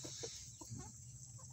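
Chickens in a backyard coop of about two dozen birds give a few soft, short clucks close by in an otherwise quiet space.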